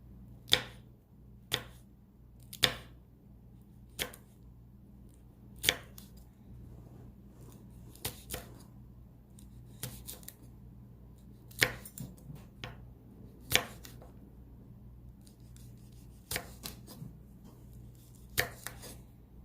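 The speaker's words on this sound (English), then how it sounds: "I'm going to slice up this chili pepper." A knife slices a chili pepper thinly, tapping sharply on a cutting board at an irregular, unhurried pace, a dozen or so distinct chops in an otherwise quiet room.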